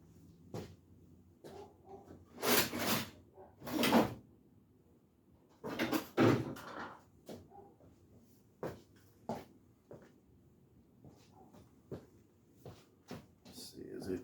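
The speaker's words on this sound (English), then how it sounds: "Let me give this thing a little tap" Light metallic taps on a valve in a 1963 Chevy 283 cylinder head, a handful of sharp irregular knocks spread out, with speech heard between them.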